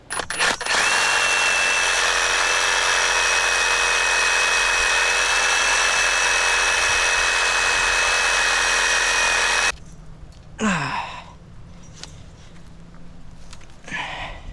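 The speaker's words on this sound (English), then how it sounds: "Realize I do have a Sawzall." A Sawzall reciprocating saw cuts open a discarded pool heater: a loud, continuous whining buzz with metal rasping for about ten seconds, then it stops and scattered clanks and handling noises follow.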